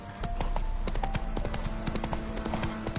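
The horse Roach walks in a video game, its hooves clip-clopping in a steady, even rhythm of sharp, close knocks against a soft ambient background.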